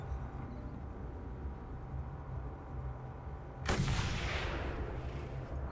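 A single booming gunshot or blast goes off in the video game Mad Max, a sudden loud crack with a long fading tail, heard after a few quiet seconds of low game ambience.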